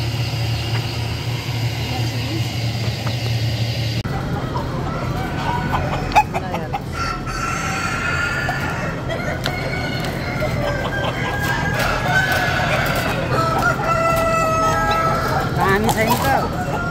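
Kadaknath chickens cluck and crow at a poultry farm with heaters, with a continuous busy flock chorus of clucks and crowing calls throughout, people talking at times and a faint engine in the background.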